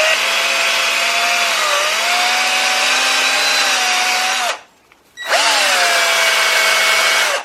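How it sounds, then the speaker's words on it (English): A power tool fitted with a red Scotch-Brite pad cleans a 2JZ engine valve, a loud steady high whine that cuts out briefly near the end, then spins back up and runs on. "Just a red Scotch-Brite. And just pretty much go over the surface one more time."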